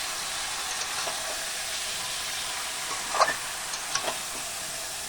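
Food frying in a pan as it is stirred, a steady sizzling hiss with a few brief scraping clatters near the end, close and moderately quiet.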